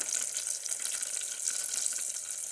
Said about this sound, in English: And look at that fry action right there.